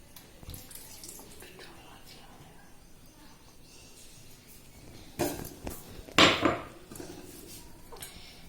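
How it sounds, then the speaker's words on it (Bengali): Water is poured into a pan of fried eggs cooked with raw mustard oil, salt and turmeric, arriving as two short splashing bursts after a quiet stretch of faint kitchen background. "এরপর অ্যাড করা হচ্ছে জল"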